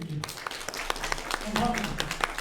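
Light applause for students at a lecture on civil service hiring, with patchy claps mixed under a voice that keeps talking.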